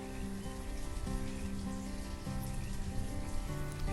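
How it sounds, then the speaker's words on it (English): Steady rain in the town-building game Banished patters densely and evenly, with calm background music holding sustained tones underneath. "watch the rain coming down"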